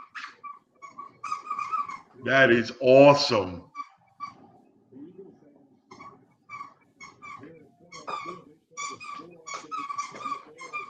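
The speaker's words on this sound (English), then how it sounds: "My dog's loving it. She's squeaking." A dog whimpers and squeaks a toy in excited, repeated high yips during a live Eagles playoff broadcast. Fairly close and steady throughout, with a person talking in bursts over the television sound.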